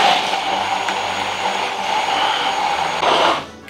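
A loud, steady immersion blender whirs continuously while mixing with peanut oil, close up, then spins down and stops at the end.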